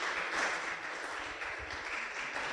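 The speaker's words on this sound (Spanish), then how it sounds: "Den un fuerte aplauso al Señor," A church congregation applauding, a dense wash of clapping that swells and holds steady for a few seconds.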